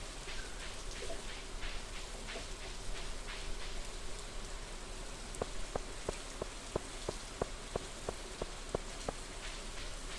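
Steady in-game rain from Stardew Valley patters on surfaces throughout, soft and continuous, with a short run of regular plinking drips near the end and no voices.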